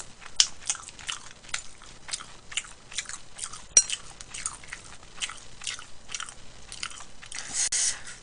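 Noisy, wet chewing and crunching close up while eating Nagasaki ramen and sweet-and-sour chicken, in a steady rhythm of bites, with occasional clinks of cutlery.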